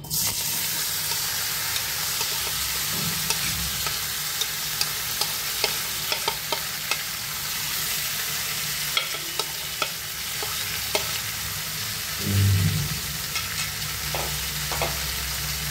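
Okra (bhindi) fries and sizzles in a hot kadai over a gas flame, a steady bright sizzle with scattered spatter pops and a few scraping stirs near the end, with no voices.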